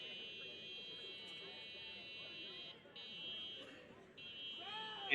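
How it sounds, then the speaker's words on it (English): A persistent electronic buzzer like an old 1980s car door chime drones steadily at a fixed pitch, briefly cutting out twice, amid a street scene during unrest in Los Angeles, with faint voices and radio chatter underneath. "It literally sounds like a 1980s car door buzzer going off."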